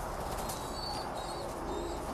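Pigeons in a pigeon loft, faint soft cooing and light rustling over a constant low background hum, with no talk.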